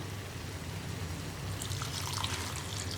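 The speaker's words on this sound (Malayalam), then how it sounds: "ഇനിയിപ്പോൾ നമുക്കിതിലേക്ക് ചൂടുവെള്ളം ചേർക്കാം" Hot water poured into a pan of tomato fish curry, a steady soft trickling and splashing pour heard close up and alone, continuing for a few seconds.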